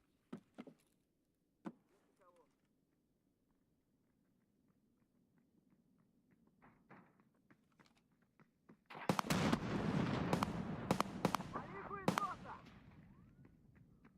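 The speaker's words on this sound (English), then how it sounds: "Somebody tried to nade him." Grenade blast in an online shooter game, a sudden loud burst with a roaring, crackling tail and scattered sharp pops following, after quieter faint clicks and low background hum.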